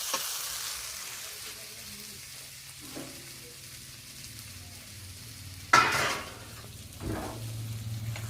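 Spice masala frying in a pan for a fish curry: a low steady sizzle with a couple of brief stirring scrapes and one louder burst near the end.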